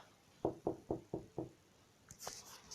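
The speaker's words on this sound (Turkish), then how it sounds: "kapı çaldı." Five quick, evenly spaced knocks on a door, fairly close and clear, followed by a softer, higher rattle or tap; no talking.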